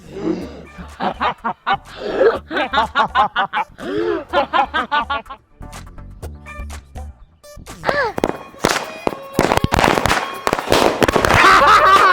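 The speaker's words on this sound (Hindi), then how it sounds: "सुबह में चला रहे हो तुम पटाखे।" Firecrackers and fireworks bursting during Diwali celebrations, a dense run of sharp cracks and pops building to a loud, continuous crackling barrage near the end, with voices and laughter mixed in.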